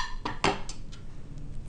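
Grated apple is scraped into a bowl of grated carrot, a few sharp clinks and scrapes of utensil against dish, close and brief, the first two loudest, then fading to faint taps.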